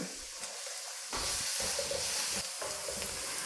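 Beans, carrots and green bell pepper sizzle and hiss in a hot pan, with a few stirring scrapes over the steady frying noise.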